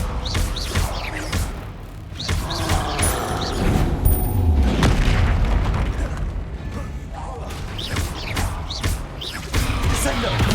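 A Descendo spell slams a target down in the Hogwarts Legacy video game, with a heavy low thud near the middle amid a busy stream of clanking mechanism and impact effects.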